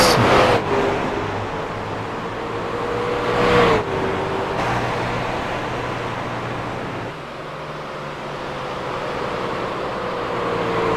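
A stock-style race truck in an All Pro Racing event at Phoenix roars down the front stretch, a loud engine drone with shifting pitch as it passes, then a steadier hum, no talk.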